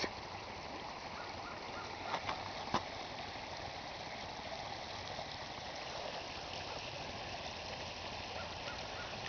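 Snow meltwater stream flowing steadily in a thaw, a soft continuous rushing wash with a couple of faint taps partway through.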